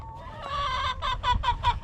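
Chickens and a rooster in a recently integrated two-flock backyard coop cluck in a run of repeated, rhythmic calls, close by and moderately loud, with no talking.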